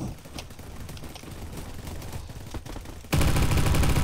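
A pistol fires in the Roblox shooter Bad Business, sharp shots cracking over game noise, ending in a sudden loud, sustained burst of gunfire.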